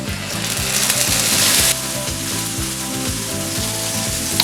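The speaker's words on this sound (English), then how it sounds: "Let's add the chopped tomatoes." Chopped tomatoes hitting a hot shrimp paella pan, a loud continuous sizzle that drops slightly in brightness partway through, close up over a low rhythmic background hum, no voices.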